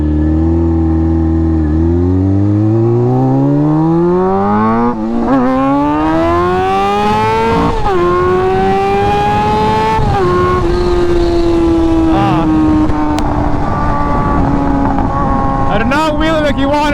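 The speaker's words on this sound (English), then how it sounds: "this bike is fucking stupid loud now" Honda F4i sport motorcycle fitted with a Radiant Cycles Shorty GP exhaust, very loud and close, the engine revving up through rising pitch, holding, then easing off and blipping again near the end.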